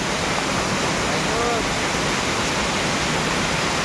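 A waterfall at Kusumalewadi in the Konkan roars nearby with a dense, steady rush of falling water, loud and unbroken, with a faint voice briefly audible underneath.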